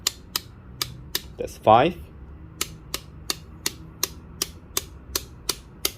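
A Millwright hand grinder's grind-setting dial being turned, a crisp run of evenly spaced mechanical clicks, close and distinct, with one brief spoken remark partway through.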